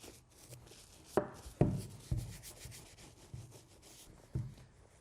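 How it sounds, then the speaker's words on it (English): A premium brush with foam scrubs the plastic heel tab of a Nike Adapt BB 2.0 sneaker, making soft, close brushing and rubbing strokes with a few sharper scrubbing taps. "Same thing. Foam on the premium brush."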